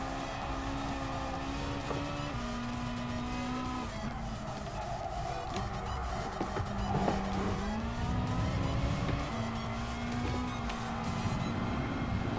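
Race car in Gran Turismo Sport, driven through a GT League event at La Festa Cavallino: a loud, continuous engine drone rises and falls with gear changes, with brief tire squeal on the corners.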